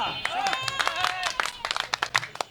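Brief clapping at a buffalo-meat shop at the Lalmatia tempo stand in Mirpur 11, Dhaka: a few sharp, uneven claps from a small group, heard through and after people talking nearby.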